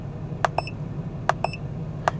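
Three pairs of short electronic beeps from a BMW diagnostic scanner, each pair a quick double tone, spaced evenly over low background hum, fairly faint.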